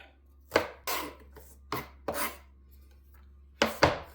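Knife chopping onions on a cutting board in a home kitchen, a few sharp, close chops in short bursts separated by quiet gaps, with no talk.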